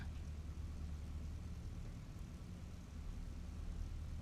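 Steady drone of an airplane flying past in the X-Plane flight simulator, a real-world flight injected near Cologne; a continuous low engine rumble with a broad hiss that holds evenly throughout, no talk.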